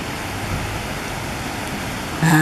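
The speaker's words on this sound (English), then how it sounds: "Rain's picking up." Heavy hurricane rain falls as a dense, steady wash of noise during Hurricane Helene in Athens, Georgia, loud and unbroken for the full length, with a brief sharper sound at the very end.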